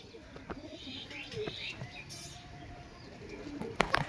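Faint pigeons coo softly amid quiet background rustling and occasional knocks, with a few brief sharp sounds near the end.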